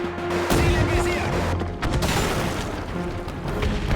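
Tank gunfire in the real-time strategy game Men of War 2, on a German campaign mission at the Siegfried Line: loud, dense, rumbling booms and rattling fire that continue almost without a break.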